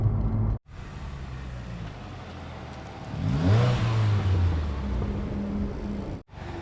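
Steady low road rumble and engine drone inside a moving Subaru WRX fitted with a TOMEI Expreme Ti dual muffler at highway speed, with a broad wind hiss swelling midway; no talking.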